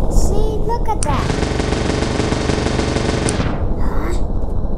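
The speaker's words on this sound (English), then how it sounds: "Cannons? Really? They do nothing." Cannons fire in a rapid continuous volley during a pumpkin invasion video game battle, a loud dense barrage lasting a few seconds, with brief talk just before and after.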